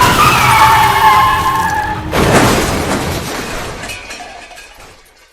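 A car crashes with a loud skid, then a burst of impact and shattering glass that fades away, with no talking over it.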